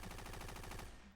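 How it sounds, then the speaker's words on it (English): Rapid light machine gun fire over radio comms, a dense unbroken burst of shots that cuts off at the end. "You hear gunfire, and I'll just play the sound effects."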